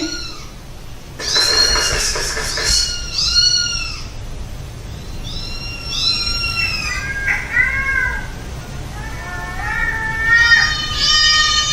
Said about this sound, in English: maybe get a recording of some meows